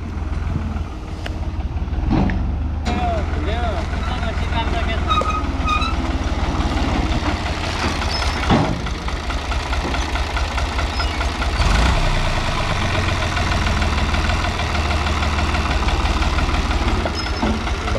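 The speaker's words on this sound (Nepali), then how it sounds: "ट्र्याक्टर त जस्तो पनि हिँड्छ यार" A tractor engine runs steadily on a rural countryside site in Nepal, a close, continuous low chugging idle with no speech.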